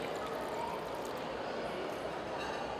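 Water pours into a blended fruit drink with ice, giving a steady, continuous rushing splash that holds an even level from start to finish.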